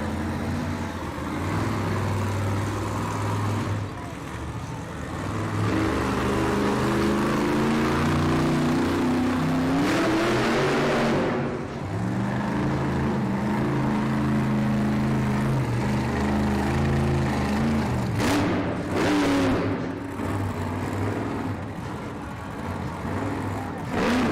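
A Monster Jam truck engine revs hard through a freestyle pirouette at an arena event in Toledo, Ohio, loud sustained roaring with rising and falling pitch swells, crowd noise and an announcer's voice mixed underneath.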